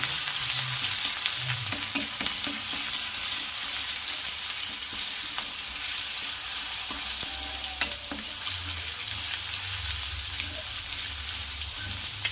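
Coarsely ground ginger-garlic paste with cumin fries in a pan for a vegetable curry, a steady crackling sizzle that runs throughout, with scattered scrapes and taps as it is stirred.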